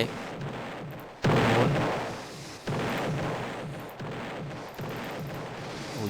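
Rapid bursts of gunfire from the Roblox game Bridge Battles, arriving in several loud blasts separated by short gaps, with no talking during the shots.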